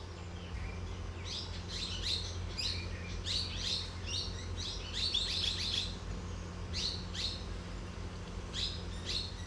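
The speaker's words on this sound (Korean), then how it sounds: "이 숲에는 무려 580종이 넘는 새들이 살아간다." Many birds chirp and call in a Himalayan lowland forest, with repeated bright tweets in short bursts throughout over a steady low background hum, fairly close and moderately loud.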